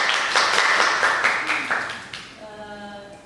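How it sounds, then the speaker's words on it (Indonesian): Small podcast audience clapping together for a student achiever, a loose burst of claps that tapers off after about two seconds, giving way to a faint tonal hum. "tepuk tangan"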